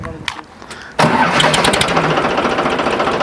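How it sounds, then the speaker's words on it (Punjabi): A modified tractor engine in rural Punjab cranks, then catches abruptly and settles into a loud, rough, steady rumble close by, with people talking over it. "ਕਰੀ ਤਾਂ ਸਟਾਰਟ ਯਾਰ ਟਰੈਕਟਰ"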